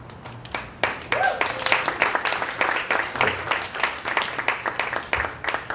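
A small salon audience claps in sparse, uneven bursts, the individual hand claps distinct and fairly close, building briefly and then trailing off.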